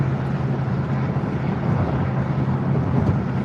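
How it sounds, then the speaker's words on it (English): Strong crosswind buffeting a car rolling north to south near Indianapolis while chasing storms, a dense, continuous low roar and rumble of wind and road noise, loud and steady throughout with no voices. "It's a lot of wind, crosswind."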